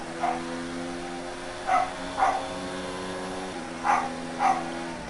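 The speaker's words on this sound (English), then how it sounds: "I really do apologise if you hear my dog barking in the background." A dog barks five times in short bursts, spaced irregularly, somewhat distant, over a steady background hum.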